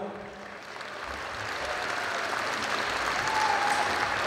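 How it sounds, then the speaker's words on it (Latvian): Sustained applause from a large audience filling an arena during a State Police anniversary celebration in Riga, steady broadband clapping that swells gradually and holds without speech. "Dāmas un kungi, jūsu aplausi Marekam Lācim un Irinai Rūķei"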